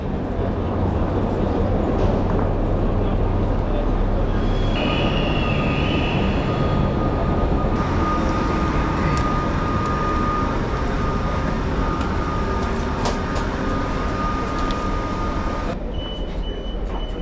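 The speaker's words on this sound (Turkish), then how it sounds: "Mühldorf trenine yetiştim. Geliyor da zaten." A train pulls into Salzburg station with a loud, steady rumble and a drawn-out high squeal partway through, heard close with no talking.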